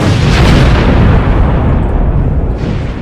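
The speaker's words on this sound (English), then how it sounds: "A catastrophic explosion ripped through the factory. 8 tons of TNT detonated." Eight tons of TNT detonating in a shell-filling factory, a massive continuous roaring blast with dense low rumble that barely fades over a few seconds.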